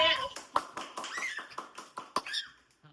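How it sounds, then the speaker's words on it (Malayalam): Hands clap in a quick, uneven run of sharp claps, close and fairly loud, mixed in with a person speaking. "എന്നിട്ട് കൈയടിച്ചേ."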